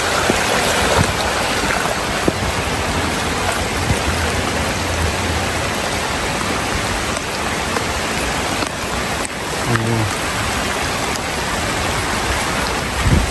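Heavy, continuous rush of floodwater pouring down from the mountain in rain, a loud broadband roar with steady rainfall, no voices over it.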